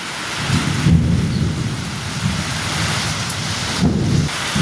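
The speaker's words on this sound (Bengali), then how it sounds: "আর দেখো আমি যেই ছাদ থেকে চলে আসি তারপরে এরকম ঝমঝম করে বৃষ্টি নামে।" A heavy monsoon downpour roars steadily while deep thunder rumbles roll through it in a few swelling bursts, loud and enveloping, with no voices.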